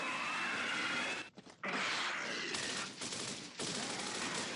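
Dense automatic gunfire from the video game Gears of War rattles in sustained bursts, loud and close, with a short break partway through and no talk over it.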